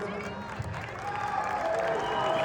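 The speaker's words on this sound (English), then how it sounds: "That's what I want to hear you guys cheering." A crowd at a boxing weigh-in cheers and applauds in a steady, continuous din, swelling louder in the second half, with voices mixed in.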